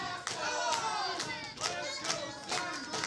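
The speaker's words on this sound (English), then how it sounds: "The Let's Go Coleman, Let's Go Cedric chants here ringing throughout this arena." Wrestling arena crowd at a live main event chanting in rhythmic unison, with bursts of clapping at regular intervals, loud and sustained throughout.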